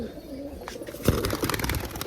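Pet pigeons in a loft, a paired couple among them, cooing softly nearby alongside a brief flutter of wings, with light background murmur.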